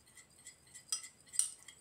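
Vitamin E oil being stirred into a homemade pimento hair treatment, heard as faint, light clinks and taps of a utensil against a container, a few soft strikes spread evenly with two slightly louder ones.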